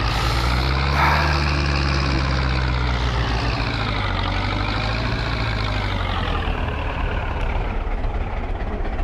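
A tractor engine in Farming Simulator 22 drones loudly and steadily as it struggles to pull away from an intersection, a low rumble that rises and falls slightly in pitch.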